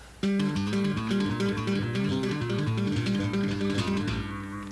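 Twangy guitar notes slide smoothly from one pitch to another over a ringing low string, a short lick played alone that fades out at the end.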